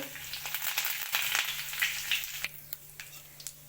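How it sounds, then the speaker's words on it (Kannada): Mustard seeds, cumin and curry leaves sizzle and crackle in hot oil while a South Indian sambar tempering is made, a steady close frying hiss with small pops that eases toward the end. "ಜೀರಿಗೆ ಹಾಕೋತಾ ಇದ್ದೀನಿ ಕರಿಪತ್ತ ಹಾಕೊಂಡಿದ್ದೀನಿ"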